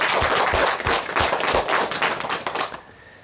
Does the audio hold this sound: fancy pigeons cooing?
no